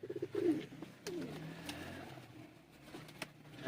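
Teddy pigeons kept for sale in Sialkot coo softly at close range, giving several low, rolling calls over faint background rustle.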